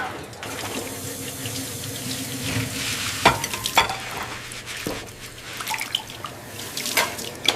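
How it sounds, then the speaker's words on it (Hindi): Dishes being scrubbed and washed by a household servant, with clattering utensil knocks, scraping and splashing water over a steady background, in a domestic setting. "जाओ वहां बैठकर बर्तन मांजो"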